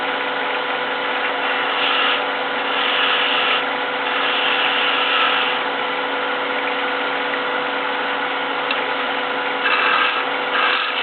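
A wood lathe turns a finial while a skew chisel cuts it, giving a steady motor hum with tonal whine and soft swelling scraping passes at a moderate, close distance, with no talking.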